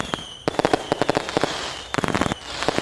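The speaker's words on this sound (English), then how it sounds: "this is the fireworks is so awesome" Fireworks exploding in rapid clusters of sharp, loud cracks and pops, with a brief pause between two bursts and a faint whistling tone running underneath.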